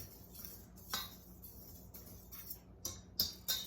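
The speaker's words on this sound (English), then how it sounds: "I'm just going to whisk that all together so that the yeast, the sugar, and the flour are thoroughly incorporated" Dry yeast, sugar and flour whisked together in a bowl for dinner rolls, soft irregular ticks and light clinks of the whisk against the bowl, quiet and close, with no talking.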